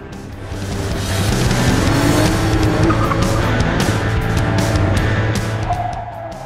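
A BMW race car drifts, its engine droning loudly and steadily with tire squeal rising and falling over several seconds, swelling in and fading out.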